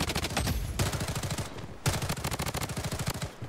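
Rapid automatic gunfire in the mobile shooter Blood Strike, two sustained bursts of evenly spaced shots broken by a short pause, loud and close with no talk over it.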